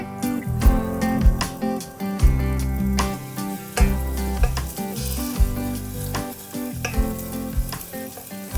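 Ginger and turmeric cook in a hot cinnamon and cardamom liquid for an ayurvedic oat porridge, giving loud close sizzling with uneven bursts and stirring knocks in the pot.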